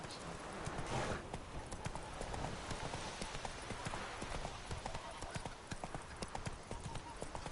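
Roach, the horse in The Witcher 3 video game, galloping with a quick, steady clip-clop of hooves close by, mixed with game ambience, and voices speak over parts of it.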